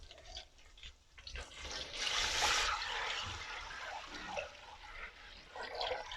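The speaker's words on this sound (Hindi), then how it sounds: "मैं इसमें 3 कप या 3 गिलास पानी डाल रहा हूँ।" Water poured into a pot holding about one and a half cups of rice during chicken BBQ rice cooking, a steady splashing stream that swells in the middle and runs on for several seconds, close and fairly loud.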